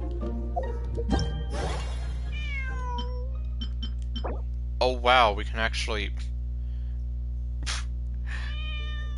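A cat meows repeatedly in the Genshin Impact video game, several bright drawn-out meows over a steady game music hum, interleaved with a person talking.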